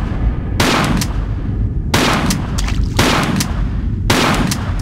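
In the Tomb Raider level The Times Exclusive, a shotgun fires at crocodiles, four loud heavy blasts spaced about a second apart over a constant low rumble of game ambience.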